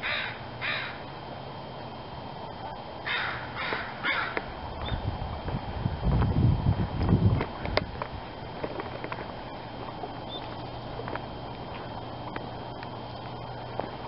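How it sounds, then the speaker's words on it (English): Two crows caw outdoors, giving a few hoarse calls near the start and a cluster of caws a few seconds later, moderately distant over steady background noise and some rustling. "Two crows finding each other."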